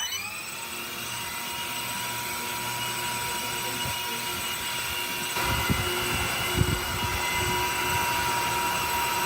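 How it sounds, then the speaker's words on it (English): A small drone's electric motor revs up with a steady high whine, its fan blades rubbing against the housing, the pitch rising partway through and a few scraping knocks sounding near the end. "I think I'm going to need different fan blades. It's like rubbing on the side when I rev it up."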